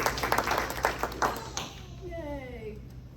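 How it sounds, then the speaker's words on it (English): A short round of applause from an audience at a health talk, with brisk clapping for about a second and a half that quickly dies away into a quiet room with a few voices. "So everybody give her a round of applause."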